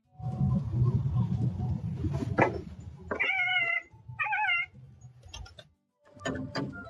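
A cat meows several times up close, drawn-out wavering calls with pauses between, after some low rumbling and shuffling noise.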